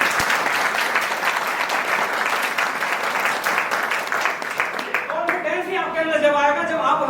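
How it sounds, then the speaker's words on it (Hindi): Sustained applause from an audience at a company training session, honouring the managing director; dense, loud clapping fills the room throughout, fading toward the end as a voice begins speaking over it. "सर के लिए जोरदार शानदार तालियां"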